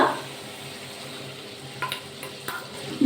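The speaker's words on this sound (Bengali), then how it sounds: "আবার একটু নাড়াচাড়া করে নিলাম টমেটাম দিয়ে" Tomato is stirred into vegetables frying in oil in a pan for a pointed gourd and chickpea dish: a soft low sizzle runs underneath, with a few scraping stirs toward the end and no talking.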